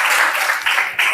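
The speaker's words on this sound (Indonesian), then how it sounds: "Kita beri tepuk tangan dulu untuk kelompok 2." Brief applause from a class for a student group after its presentation, a loud, close burst of clapping filling the short moment, with slight surges in intensity.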